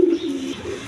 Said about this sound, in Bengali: এক পেয়ার কাগজি কবুতর আছে